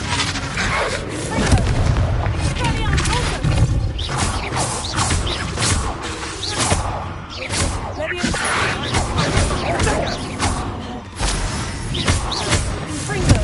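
Confringo spell blasts go off in a Hogwarts video game, a dense, steady wash of booms and crashes with voices talking over the noise throughout.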